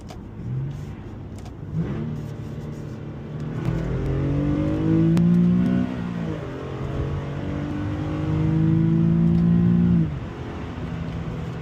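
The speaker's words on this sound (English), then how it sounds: "I think the motor really does like to get near the red line" Infiniti G37 engine revving hard toward redline, rising harmonics climbing in repeated pulls with gear changes, loud and close from inside the car.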